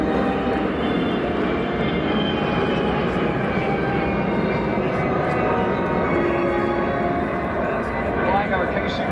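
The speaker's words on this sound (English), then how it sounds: "Flying our KC-135 today, KC-135 has three crew members, two pilots, and one enlisted boom operator." A KC-135 tanker flies past at an air show, its jet engines making a loud, steady roar that fills the whole stretch without a break.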